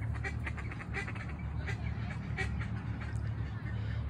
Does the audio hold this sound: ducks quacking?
yes